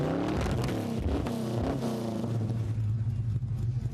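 A Mustang with headers feeding a 2.5-inch stainless steel exhaust and MagnaFlow mufflers revs up, giving a loud, close, deep rumble that climbs and falls before settling into a steady low drone.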